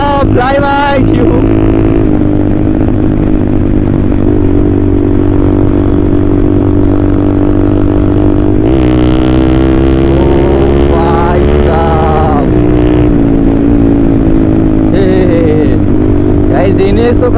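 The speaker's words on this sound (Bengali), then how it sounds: "এনএস দুশো পাওয়ারফুল বাইক গাইজ।" A Pulsar NS 200 motorcycle races along a road, its engine droning steadily with rising and falling revs throughout, loud and close, while someone talks excitedly over it.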